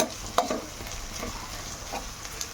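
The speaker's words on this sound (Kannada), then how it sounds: "ಇವಾಗ ಇದು ಫ್ರೈ ಆಗ್ತಾ ಇದೆಯಲ್ವಾ, ಫ್ರೈ ಆಗೋ ಟೈಮಲ್ಲೇ ಜಿಂಜರ್ ಗಾರ್ಲಿಕ್ ಪೇಸ್ಟ್ ಕೂಡ ಹಾಕ್ಕೊಬಿಡಿ" Onion frying in a pan with ginger garlic paste, a steady soft sizzle under occasional stirring scrapes and clinks of a spoon against the pan.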